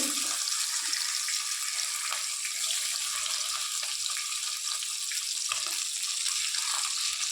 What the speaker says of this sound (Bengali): বাকি মাছগুলোকেও এইভাবে একই প্রসেসে ভেজে নেব